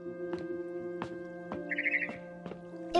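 A barn swallow chirps outside a window in a few short, sharp calls spaced apart, with a brief trilling twitter in the middle, set against a faint steady hum.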